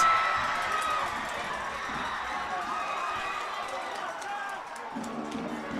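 A crowd at a high school football game between Carlson and Woodhaven cheers after a successful extra point on a bad snap. The roar is steady and moderately distant, fading slightly near the end.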